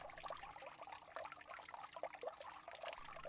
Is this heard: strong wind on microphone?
no